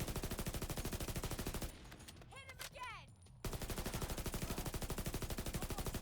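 Rapid automatic gunfire in The Division, a loud fast uninterrupted stream of shots that breaks off for a moment of quieter game sounds and then resumes at the same hammering pace.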